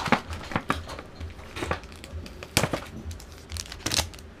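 Foil Shards of Alara trading card booster packs being cut open and handled give off scattered crinkling and tearing rustles in short irregular bursts, close and fairly quiet, with no talking.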